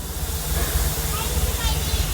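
Steam engine of a train hissing loudly and continuously with a low rumbling chug beneath, close by.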